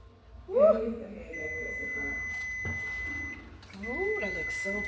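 A stove timer in a home kitchen beeps as a steady high electronic tone running for a few seconds, while a person talks over it during herbal friendship bread baking.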